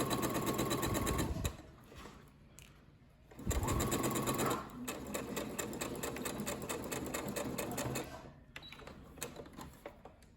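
A sewing machine stitches a French seam in fabric, running in a loud, close mechanical whir with a rapid needle rhythm, pausing briefly twice and restarting, with no one speaking.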